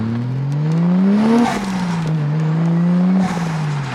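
A 1JZ inline-six car engine revs up loudly, drops as a gear shifts, then climbs again before another shift, a smooth rising whine close by.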